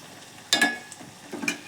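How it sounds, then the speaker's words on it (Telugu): Spices tempering in hot oil for a capsicum curry, with soft sizzling and a couple of louder bursts of spattering and stirring in the pan. No one speaks. "మంచి ఆయిల్లో ఫ్రై అవుతుందండి."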